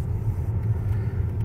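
Steady low rumble of a car moving alongside a Tesla Model S, the engine and road noise holding close and even for the whole short stretch without any voices.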